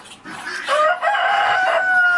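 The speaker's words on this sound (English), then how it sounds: "So Muscovy ducks like to talk." Muscovy ducks call in several drawn-out, nasal vocal bursts that rise and hold steady, close and fairly loud with no talking.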